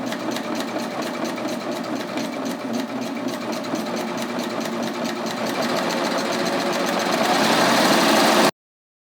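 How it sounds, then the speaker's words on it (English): A Baby Lock Ovation serger stitches a blind hem, its rapid, steady mechanical chatter running close and loud throughout before stopping abruptly near the end. "basically what I'm going to do is I'm just going to stitch."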